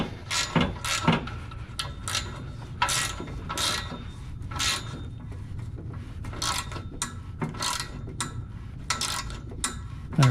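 A wrench loosening a nut on the shift cable of a 2002–2006 MINI Cooper S, in small eighth-turn steps: a string of sharp ratcheting clicks in short bursts, close and clear, with no talking.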